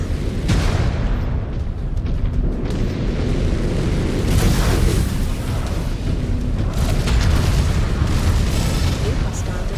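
Incoming missile explosions in the mech combat video game MechWarrior 5: Clans, heavy low booms and bursts rolling continuously under loud battle noise, with several sharper blasts spaced through the stretch.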